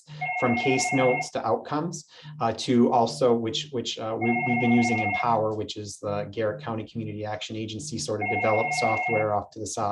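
A mobile phone ringtone repeats in bursts of steady electronic tones beneath someone talking continuously at a presentation, the ringing clearly audible under his voice.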